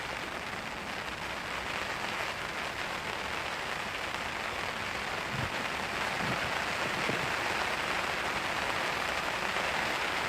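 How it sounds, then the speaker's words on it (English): Steady rain patters on surfaces around an anglers' spot during cage feeder fishing, a constant hiss of drops filling the scene with no voices. "Rain's starting back up"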